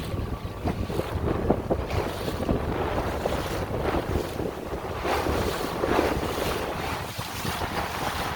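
Dinghy motoring out from a dock under a bridge through a rough, fast-flowing cut in the Exumas: steady close roar of wind buffeting the microphone mixed with splashing water and engine noise, with no talk.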